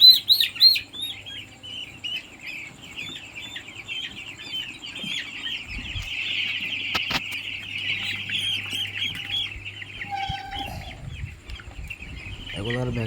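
Eleven-day-old chicks chirp continuously during a vaccination session, a dense chorus of high, overlapping peeps held close and steady, with low background hum and handling noise.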